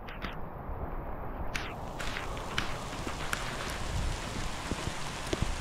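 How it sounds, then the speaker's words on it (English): Steady rain falls in a village, a dense continuous hiss with scattered louder drops and taps close by, no voices. "It's just raining here."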